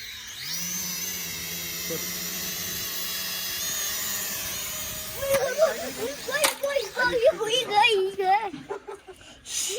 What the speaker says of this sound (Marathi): तर ड्रोन चालू केलेला आहे आपण